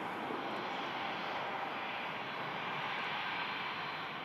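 A Finnair airliner takes off at Manchester Airport, its engines a steady loud roar that holds evenly across the whole moment, with no talk over it.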